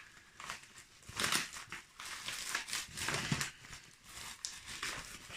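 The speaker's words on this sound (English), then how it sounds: "More packaging inside." Packaging inside an opened parcel is pulled out and crinkled in close, uneven bursts of rustling and crunching with short pauses, moderately quiet and with no talking.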